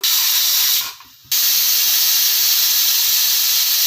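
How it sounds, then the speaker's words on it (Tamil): A pressure cooker whistle releasing steam while cooking rice and lentils, a loud continuous hiss that cuts out briefly and then bursts back at full force, close and with no voices. "குக்கர் மூடி ஒரு 3 விசில் விட்டுறலாம்."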